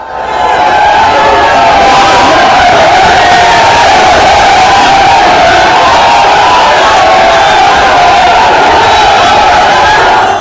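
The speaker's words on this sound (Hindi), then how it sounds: "बाबा बागेश्वर वृंदावन पहुंचे और भीड़ देखिए जरा, हजारों की भीड़ जुटी थी" A huge crowd of thousands on a pilgrimage march to Vrindavan roars and cheers continuously, loud and dense with massed shouting voices for the whole stretch.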